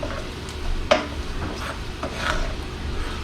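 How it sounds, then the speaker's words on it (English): Flour and pepper gravy base cooking in a pan while being stirred, a soft close sizzle with irregular scraping and rubbing strokes of the utensil, no voices. "Let that cook down for a minute. Stir it around."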